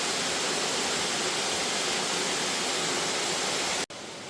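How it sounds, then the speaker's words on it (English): Cascade Falls in Jefferson National Forest, Virginia: a steady, loud, full-band roar of falling water from close by, unbroken apart from a brief cut near the end, with no talk. "Very pretty waterfall here. Cascade Falls."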